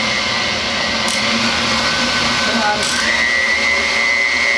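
A blender purees dried chilies and soft onion for vegetable molé, giving a steady, loud whirring drone that holds throughout with small pitch shifts.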